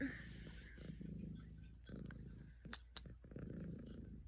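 A pet cat purrs up close, a soft rhythmic rumbling in repeated breaths, quiet and intimate, with a few small clicks and rustles breaking in near the end.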